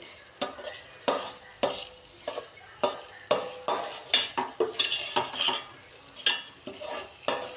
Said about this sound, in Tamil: ஒரு 2 நிமிஷம் நம்ம கிளறி விட்டு அடுப்பை அடைக்கலாம்